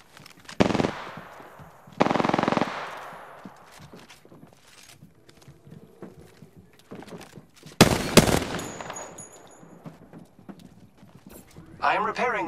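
Bursts of video game gunfire ring out in a firefight: two loud blasts near the start, another heavy burst around the middle and a sharp volley at the end, with quieter shots, footsteps and effects in between.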